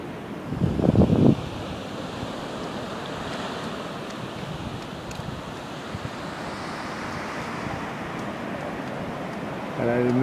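Sea waves wash steadily against a harbour's north jetty lined with concrete tetrapods on a calm morning, a continuous broad rush with wind buffeting the microphone and a brief low rumble near the start.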